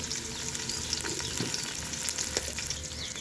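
Onions and mustard seeds fry in a pan, a steady dense sizzle with a few louder crackles and a soft stirring scrape, close and continuous.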